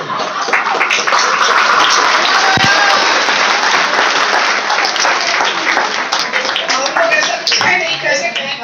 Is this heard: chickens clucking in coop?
no